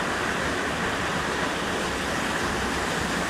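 Steady roar of a waterfall at Las Cascadas de Tequila (Los Azules), a dense continuous rushing wash of falling water heard close and loud, with no voices over it.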